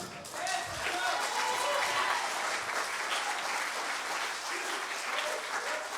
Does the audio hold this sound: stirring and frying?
no